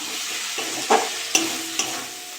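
Mixed vegetables with prawns stirred in a pan with chilli, coriander and cumin powders produce a steady close sizzle, broken by three distinct spatula knocks and scrapes against the pan; nobody speaks.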